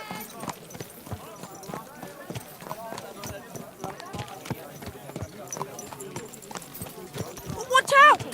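Horse hooves clip-clop steadily at a walking pace while riding in Kingdom Come: Deliverance II, close and rhythmic, with voices shouting over the footfalls and a brief sharper cry at the end.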